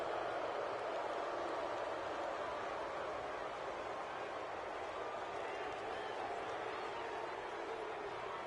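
Broadband roar of a stadium crowd in a PS4 American football game with the Redskins facing the San Francisco 49ers, a steady, dense wash of cheering that holds at constant loudness throughout, with talk mixed in.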